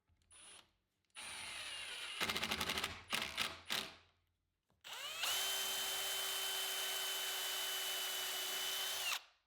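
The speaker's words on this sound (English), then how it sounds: "And now I can drive the screw" A power drill drives a screw into wood, first in several short stuttering bursts, then a long steady whine of about four seconds, close and loud with no talking.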